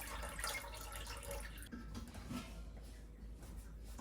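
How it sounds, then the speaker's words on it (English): Tap water runs steadily over naturally dyed green yarn being rinsed in a sink, a continuous broadband splashing hiss that thins slightly partway through, with no talking. "now I have to rinse this for like ever until everything runs clear"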